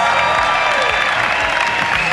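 A live audience at a personal growth event applauds in a dense, steady wash of clapping, with crowd murmur mixed in, loud throughout the short stretch.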